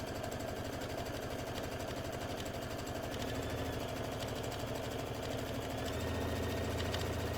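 A sewing machine runs steadily around the outside edge of a round zipper pouch, sealing the edges with a continuous mechanical hum and fast stitch pulses, close and unbroken.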